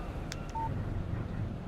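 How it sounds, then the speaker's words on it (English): Phone text message alert in the Alan Wake video game, a couple of quick bright chirps followed by a short clear electronic tone over a low steady background hum. "Text message from Barry."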